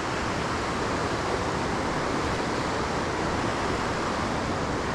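White water rapids pour over a series of small drops, a loud, steady broadband rush that never lets up, close and alone with no voices.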